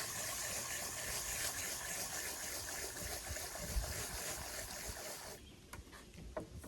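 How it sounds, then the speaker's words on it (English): Running water pours steadily from a tap used for rinsing lanolin-sticky wool, a continuous broadband rush that cuts off abruptly, leaving a few faint knocks and drips afterward. "So now this is my source of water here. So this is my running water."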